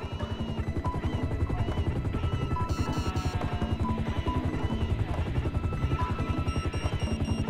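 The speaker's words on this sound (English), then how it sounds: "I see the chopper." A police helicopter in GTA 5 on PC thumps with rapid steady rotor beats, loud and continuous throughout, with faint game sounds in the background.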